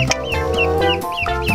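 Ducks being played with and fed call out in a quick series of loud, close, honking quacks.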